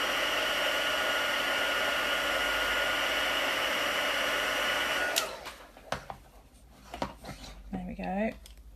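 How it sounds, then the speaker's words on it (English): A heat gun blasts a steady, loud broadband roar while drying coloured paint on a craft surface, then cuts off abruptly after about five seconds, leaving quieter handling noises and brief speech. "heat gun."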